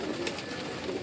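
A kamgar pigeon in Karachi gives a soft, brief cooing murmur at close range while it is being handled, quiet and low with no talk.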